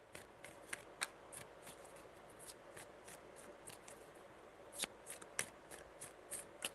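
Very quiet, close riffling of tarot cards, repeated light snaps and flutters over a soft hiss, with a few sharper slaps toward the end.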